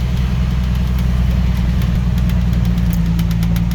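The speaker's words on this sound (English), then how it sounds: "There's the gigantic dump truck" A gigantic dump truck at a quarry, its heavy diesel engine idling in a loud, close, constant low drone with steady vibration and no speech.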